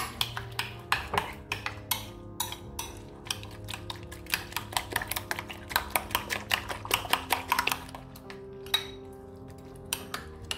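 A fork or whisk beats omelette mixture with chopped coriander leaves in a bowl, producing quick, repeated clinks and taps against the side in an uneven rhythm, close and fairly quiet, with no voice over it.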